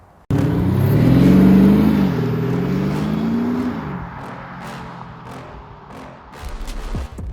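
An Audi SQ5 diesel SUV pulls away hard, its engine note swelling loud and close as it climbs through the revs, then easing off into a steadier drone with a few sharp ticks and bumps toward the end, no talk over it.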